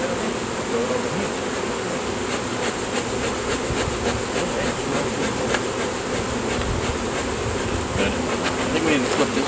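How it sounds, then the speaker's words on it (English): Bees swarm around massive beehives being removed, a dense steady buzz of many insects filling the space close by, with no voices. "That's where all the bees are going down there."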